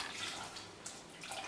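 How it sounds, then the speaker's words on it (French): Water poured gently into a pan holding a pumpkin tart, a soft continuous trickle and splash close by at low level, with no voices. "je vais être obligé de mettre de l'eau un petit peu jusqu'à hauteur"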